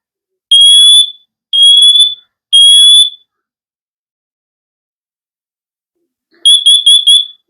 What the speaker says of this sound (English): So once it performs this test, then you know that this detector is ready.